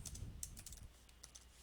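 Quiet, quick keystrokes on a computer keyboard, a short burst of light irregular clicks with no talking.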